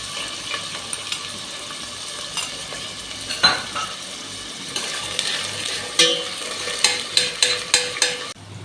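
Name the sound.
onions for koshari frying in a pot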